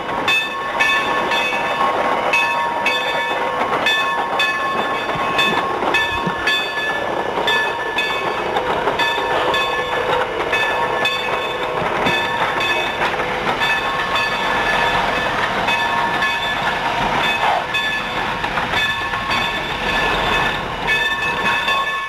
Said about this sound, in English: The train arrives back into Jamestown in the lengthening shadows.